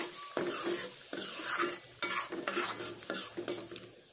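A spoon stirs gori krecek stew in a pan, scraping and clinking against the metal in a steady rhythm over a soft sizzle, close up with no voices.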